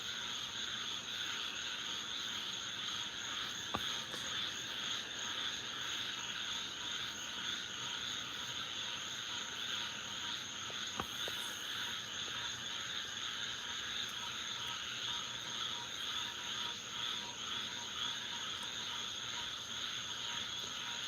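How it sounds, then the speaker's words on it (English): A dense chorus of many young frogs croaking together in woods, steady and continuous with overlapping calls, fairly distant with insect-like buzz around it and no talk. "these are all new frogs out there"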